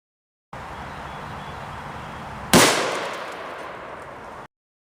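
One rifle shot of M855A1 ammunition fired from a short 7.5-inch barrel outdoors, a single sharp loud crack over steady background hiss, trailing off in a slow decaying echo.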